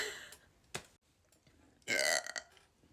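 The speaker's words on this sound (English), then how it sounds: "I can burp on command" A person burping on command: a short click first, then a loud, rasping belch lasting about half a second, close to the microphone.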